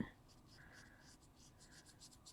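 Coloured pencil strokes from Caran d'Ache Museum pencils blending violet on the rough side of paper, a soft steady scratchy rubbing in short repeated passes, quiet and close.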